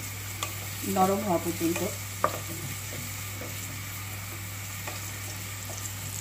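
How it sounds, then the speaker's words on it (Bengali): Onion gently frying in a pan gives a faint, steady sizzle with a few soft scrapes, and someone speaks briefly over it. "অনিয়নটা আমি হালকা ভেজে নেব"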